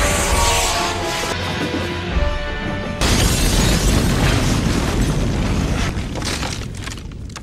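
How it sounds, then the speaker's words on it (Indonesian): A loud explosion bursts with a deep booming roar, followed by a rumbling, crackling blast that slowly fades. "Setelah kepulan asap ledakan mereda"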